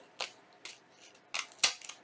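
Scissors cut a small Velcro circle in half, making a few quiet, crisp snips close by with short pauses between them.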